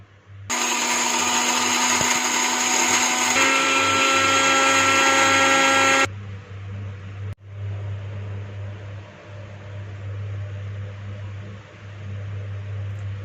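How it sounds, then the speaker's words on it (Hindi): An electric chopper grinds grains at high speed, a loud steady whir that runs for about six seconds and then cuts off, leaving a low background hum. "दानों को चॉपर में डालते हैं, इसको हाई स्पीड पे ग्राइंड कर लेंगे"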